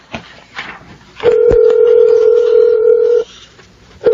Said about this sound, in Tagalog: Nagre-ring lang yung cellphone niya pero ayaw naman sagutin.